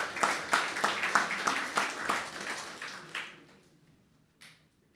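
An audience at an anniversary symposium gives a round of brisk, rhythmic clapping that tapers off after about three seconds, leaving near quiet with one faint late sound.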